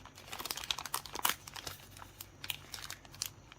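Thin plastic film being peeled and crinkled off a wax seal, a close, quiet run of crackly rustles and small tearing snaps in quick irregular bursts.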